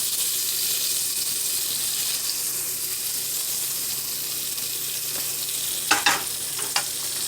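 Butter melting in a pan for steak: a constant, even sizzle fills the whole stretch, broken near the end by a couple of brief clinks of a utensil.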